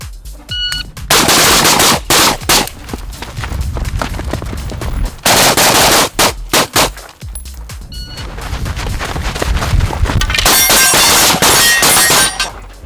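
Rifle fire through a Surefire RC3 suppressor at steel targets, several loud bursts of rapid shots with metallic clangs from the plates, a brief pause between volleys and a sustained final string.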